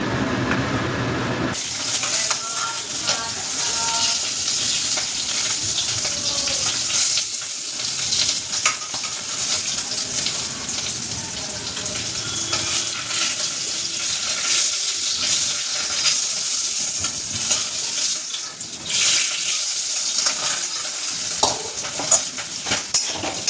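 Fish rubbed with salt and turmeric frying in a pan in a home kitchen, a dense continuous sizzle and crackle that holds steady from start to finish.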